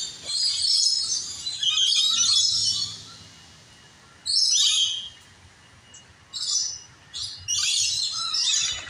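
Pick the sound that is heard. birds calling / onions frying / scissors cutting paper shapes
birds calling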